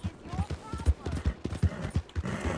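Horse hooves clip-clop in a rhythmic, steady gait in Red Dead Redemption II, mixed with game ambience while someone talks over them.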